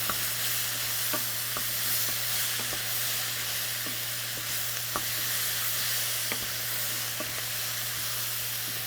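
Vegetables and spices cook down in a pan for an Egyptian edamame stew, giving a constant close sizzle with intermittent spoon scrapes and taps against the pan, and no talking.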